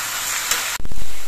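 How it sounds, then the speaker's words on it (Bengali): Chopped tomatoes land in a hot pan over a medium gas flame, a steady loud hiss breaking into a brief louder sizzle as they hit the oil, with no talk. "সেই টমেটো কুচিগুলো দিচ্ছি।"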